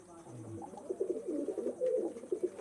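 A Firozpuri pigeon coos with a low, soft call near the start, followed by other bird sounds and mid-range chatter as people talk nearby.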